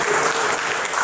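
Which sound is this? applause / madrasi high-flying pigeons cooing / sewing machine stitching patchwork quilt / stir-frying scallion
applause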